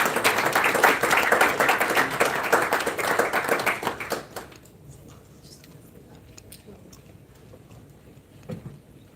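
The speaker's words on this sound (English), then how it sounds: "A round of applause for her." Audience at a UK book launch applauding a panelist's introduction, a loud, dense round of clapping that cuts off abruptly after about four seconds, leaving quiet room tone with a few stray sounds.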